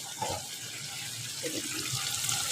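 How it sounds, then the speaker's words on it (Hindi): Boiled spaghetti water being poured off through a strainer in a home kitchen, a steady broad rush of splashing liquid throughout, with faint background voices. "भाभी इसका पानी जो है ना वो निकाल कर देंगी मुझे अच्छी तरह से छन्ने में"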